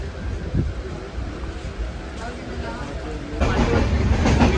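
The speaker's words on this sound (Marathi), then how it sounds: "बसलो आहे आम्ही ट्रेनमधून" Steady rumble and rattle from inside a moving train carriage, growing louder and busier toward the end, with faint voices in the background.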